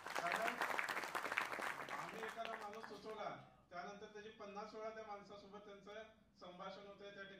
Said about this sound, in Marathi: एकदा आपण सगळेजण टाळ्या वाजवूयात